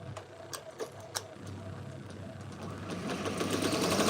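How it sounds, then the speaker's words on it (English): A Ricoma MT-1501 embroidery machine stitches, starting with a few sharp ticks and then building into a steady, rising mechanical whir close by. "I'm gonna go ahead and start the machine and make sure I'm not getting any tails or anything, and make sure it's embroidering tight"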